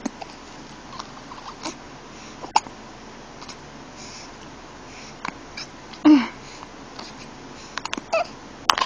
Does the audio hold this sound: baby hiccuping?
yes